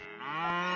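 A cow in the farming video game Potion Permit lets out a single short, rich moo, close and clear, rising slightly in loudness as it goes with no voices over it.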